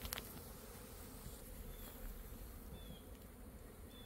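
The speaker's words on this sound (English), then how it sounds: "A swarm. It's my first swarm of the year, at least that I've seen." A honey bee swarm in an apiary hums in a dense, steady, low buzz throughout, with a few individual bees flying close past.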